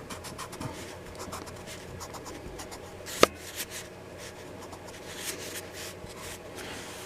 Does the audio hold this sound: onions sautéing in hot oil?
no